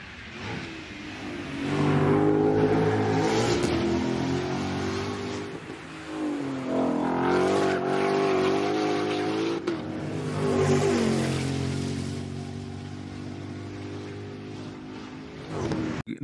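A 2025 Ford Mustang GTD engine surging and easing through curves, rising and falling revs with strong harmonic growl, close and loud, no talk.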